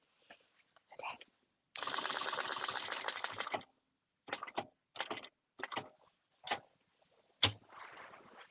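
An industrial sewing machine free-motion quilting a baby quilt: a steady burst of stitching for about two seconds, then several short stop-start runs, close and fairly quiet.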